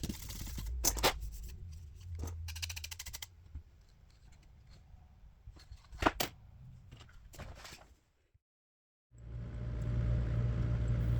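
A file scrapes a resin model part flat in rasping strokes, quiet and close, broken by a few sharper scrapes, then a pause and a steady low hum.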